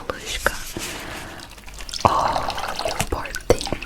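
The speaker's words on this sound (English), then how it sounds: "let me go ahead and put some water on you" Water poured onto a potted plant, with soft trickling and several distinct close drips and splashes, quiet and intimate, while a voice whispers faintly underneath.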